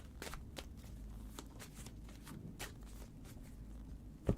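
A deck of playing cards being shuffled by a magician: a run of crisp riffling bursts and soft card snaps close up, with low room hum underneath and a sharper tap at the end.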